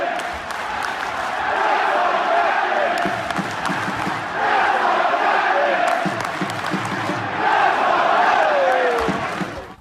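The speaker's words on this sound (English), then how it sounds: "So a lot of tough chants from the crowd there" A crowd at a hockey arena chanting loudly in sustained waves, voices swelling and fading in rhythmic bursts that fill the space.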